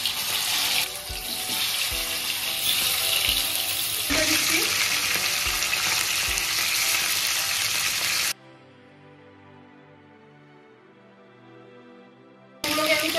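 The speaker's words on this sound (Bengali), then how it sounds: "তেলটা গরম হয়ে গেছে, আমি এখন চিকেনগুলোকে ভেজে নেব।" Chicken pieces fry in hot oil for a Bengali-style chicken masala curry, giving a loud, steady crackling sizzle for about eight seconds that then drops away to near silence before returning briefly at the end.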